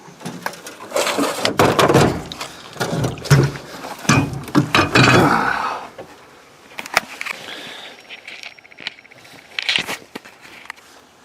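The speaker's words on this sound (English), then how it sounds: "Well, let's install the battery now." A battery being fitted into a 1992-1996 Toyota Camry, heard as close, irregular clunks, knocks and rustling handling noises, busier at first and then sparser.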